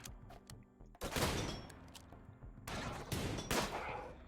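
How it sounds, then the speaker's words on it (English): Rapid bursts of bolt-action rifle fire in RimWorld ping and crack against a mechanoid in close, loud clusters, with short pauses between volleys and no talk over them. "the bolt-action rifle just keeps pinging off the bastard"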